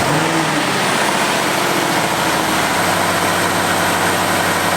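After a coolant top-up, an Audi RS5 engine idles close by with a deep, even rumble. It rises briefly at the start, then settles into a smooth, steady drone with no talking.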